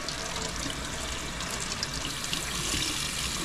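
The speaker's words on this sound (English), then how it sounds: "all we're going to do is wash it off now with some water." Water rinses off a scrubbed car body panel being prepped for refinishing, a steady close hiss and splash of running water continuing throughout with no talk.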